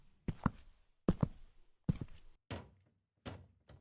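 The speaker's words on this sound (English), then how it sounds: "and then a pounding against the window" Pounding against a window in a Roblox horror game: five or six heavy, close thumps come in clusters with short gaps between them, each a dull knock that fades quickly, and no one talks.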